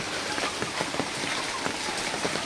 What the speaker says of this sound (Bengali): আজকে প্রচুর বৃষ্টি নামতেছে